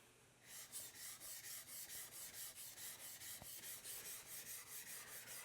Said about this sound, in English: I'm using this 1200 stone.